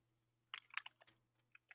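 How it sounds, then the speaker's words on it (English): Computer keyboard typing comes as a quick cluster of light clicks and taps, then a pause and two more isolated keystrokes, faint over a low hum. "Just hear Evan typing"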